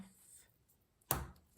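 Scissors snip through card paper once for a birthday card, a single short, close crunchy cut after a near-silent pause with faint rustling before it.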